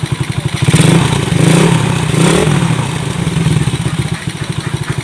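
A Kymco Visa 110 scooter engine, just fitted with a new spark plug, catches on a single kick and settles into a steady, close, loud running putter, revving up briefly before returning to a rhythmic idle.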